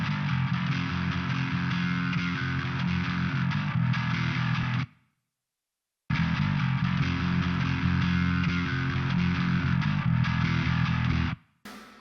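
Heavy bass played through an HM-2 style Grindstein grind plugin with an Ampeg SVT rounding out the low end: a loud, thick, buzzing distorted tone in two sustained phrases split by a brief silence, with no voices.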